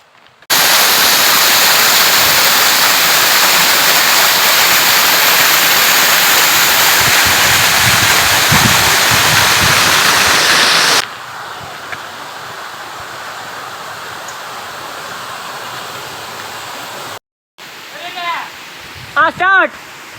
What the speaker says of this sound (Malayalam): ഇതാ വെള്ളച്ചാട്ടം ഉണ്ട്.